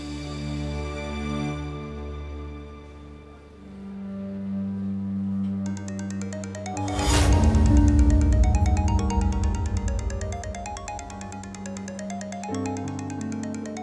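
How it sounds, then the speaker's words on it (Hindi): A melodic electronic phone ringtone plays steadily and fairly loud, looping its tune with a brief bright burst midway; no one speaks. "फरहाद भाई का फोन है ये।"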